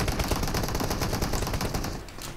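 Rapid, dense automatic gunfire in PUBG Mobile, a continuous loud rattle of closely spaced shots that carries through the whole stretch and eases slightly at the end.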